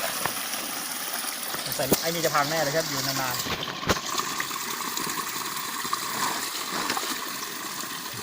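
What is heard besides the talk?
waterfall flowing, hot springs waterfall in Krabi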